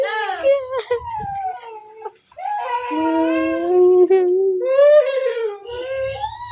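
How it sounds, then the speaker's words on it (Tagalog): A high, wavering whimpering cry rises and falls over several seconds, close and fairly loud, with brief pauses between drawn-out wails. "Iyak si baby."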